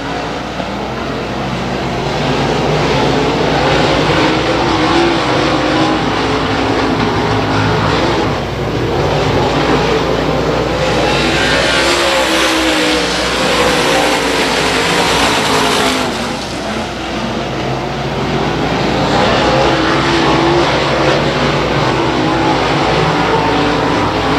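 Super late model race cars charge into turn one during the first heat, a loud, continuous roar of multiple engines swelling and fading as the pack passes close by.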